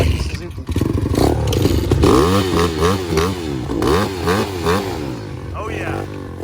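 An old Suzuki dirt bike engine runs close by with a series of rhythmic, rising and falling revs that build and ease repeatedly, loud and steady throughout.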